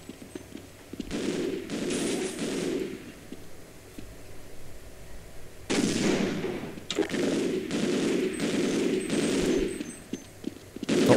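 Rapid bursts of automatic gunfire in the video game Half-Life, several sustained volleys separated by short pauses, fairly loud and close.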